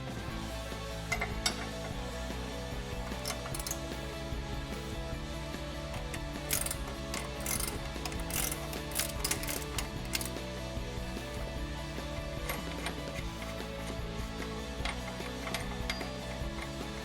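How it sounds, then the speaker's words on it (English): 19mm ratcheting wrench loosening a nut on a Toyota Tacoma upper control arm bolt, a steady run of quiet, rapid ratchet clicks and mechanical ticking that continues throughout. "we're going to get a 19mm wrench on this side and a 19mm ratcheting wrench on this side"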